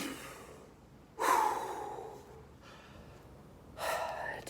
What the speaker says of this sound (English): Take a few more breaths, kind of start catching your breath.